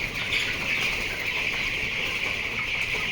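Poultry farm shed holding about 820 young chickens, roughly twenty days old with mild colds, a dense continuous chorus of peeping birds filling the space, no talk.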